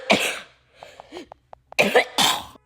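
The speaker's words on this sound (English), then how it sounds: "I started coughing really violently" A burst of harsh, violent coughing from a person who has just smoked a cigar, with loud hacking fits at the start and again near the end, separated by a few short throaty sounds.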